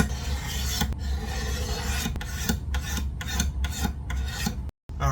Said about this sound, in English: Next, I will scrape the fingerboard.